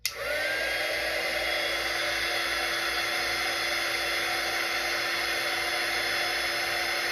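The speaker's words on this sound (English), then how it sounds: "So let me just put my heat gun on it real quick." A heat gun blows steadily over dried flowers coated with matte medium, a loud, even, close-up whirring hiss that starts abruptly and holds without a break.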